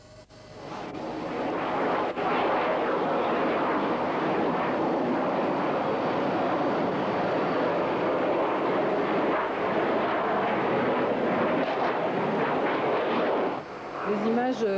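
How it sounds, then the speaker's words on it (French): An airplane stalling and crashing during a flight demonstration at an air show, a loud sustained roar of engine and impact rumble that fills the scene nearly unbroken before cutting off at the end. "Va essayer de se retourner et l'avion en perte de vitesse va s'écraser."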